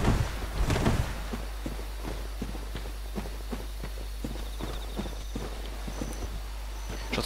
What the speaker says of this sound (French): J'entends des bruits de pas.